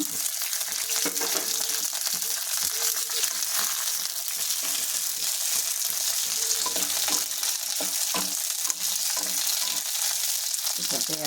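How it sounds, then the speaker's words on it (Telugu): Chillies fry in oil for lemon rice, giving a loud, steady sizzle with constant crackle and occasional light scraping of stirring throughout, and no talk. "ఆయిల్ ఇందులో మిరపకాయలు వేసుకున్నాము"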